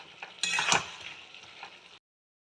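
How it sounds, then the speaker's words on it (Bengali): Spices and vegetables stir-fried in a pan make a hissing sizzle, with scraping utensil strokes near the start, then fade into silence before a brief final clatter. "ভালো করে মশলাটা সবজির সাথে কষিয়ে নেব।"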